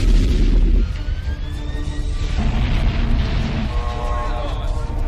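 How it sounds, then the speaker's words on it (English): Torpedoes detonate underwater in an action film, giving a heavy low boom up front and then a rumbling, churning aftermath layered with effects and faint tones, with no clear speech during the blast. "Torpedoes detonated."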